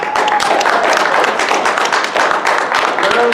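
A large convention crowd breaks into loud, sustained applause for a cosplay guest, with dense clapping throughout and some voices mixed in.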